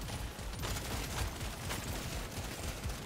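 Player's gun firing in the Deep Rock Galactic Survivor video game, a dense, continuous rattle of rapid shots with no break, loud and close against busy game noise.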